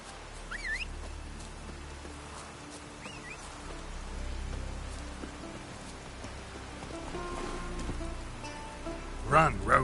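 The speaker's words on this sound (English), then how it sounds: "Looks like rain." Steady rain patters in The Witcher 3, a soft continuous hiss with occasional bird chirps and brief voice sounds, ending in a couple of sharper clanks.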